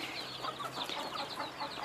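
Egg-laying hens in a coop cluck quietly in a brief, continuous murmur of short calls, faint and without speech.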